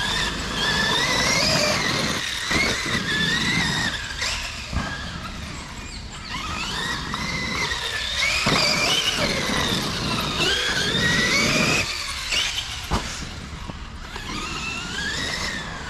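A Traxxas X-Maxx RC car with heavier upgraded wheels drives continuously, its electric motor whining and rising and falling in pitch over rolling and scuffing noise from outdoors.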